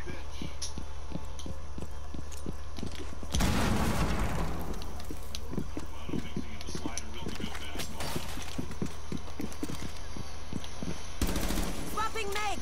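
Rapid bursts of MP5 submachine gun fire in Rainbow Six Siege, with sharp repeated shots and a few louder blasts over continuous game ambience, while a player talks throughout.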